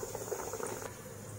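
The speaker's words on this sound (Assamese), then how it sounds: "এয়া উতলি আছে আৰু এইটো হৈ আছে" Water boils at a steady, soft bubbling simmer in a large pot used to steam rohu fish with mustard, quiet and continuous with no talking.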